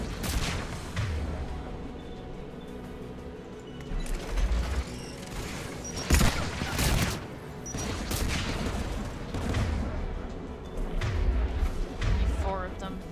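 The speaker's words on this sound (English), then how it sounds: "AA guns ahead of us." Anti-aircraft guns firing in the video game Mass Effect 3, heavy bursts and booms of gunfire over a dense battle din, with loud volleys recurring throughout while a voice talks over it.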